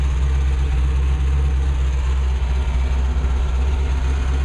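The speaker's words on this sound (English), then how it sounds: "The boat's running." A 1978 Gulfstream boat with a 350 motor idles steadily. The low, deep engine rumble stays loud and even throughout, with no voices.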